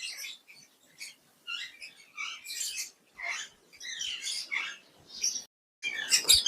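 Sparrows at Rajkot zoo chirp in a run of short, high twittering bursts with brief pauses between them, heard close and fairly clear with no talking.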